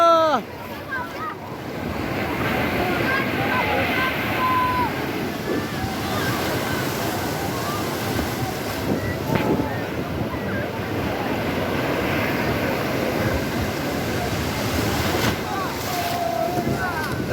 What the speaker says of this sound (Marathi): कारण उंच उंच लाटा येतात